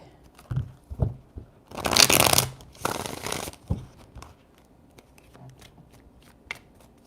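Tarot cards are shuffled in two brisk riffling bursts, close and crisp, with scattered soft taps and handling noises around them.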